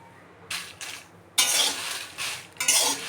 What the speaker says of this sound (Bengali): আমি কিছু শুকনো লঙ্কা ভেজে নেব। একটু নেড়ে চেড়ে গরম করে নিয়ে